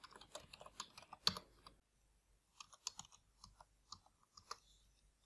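Computer keyboard typing while configuring a Linux setup on a USB NVMe drive, a close burst of quick clicky keystrokes, then a short pause and a sparser, irregular run of key taps, with no voices.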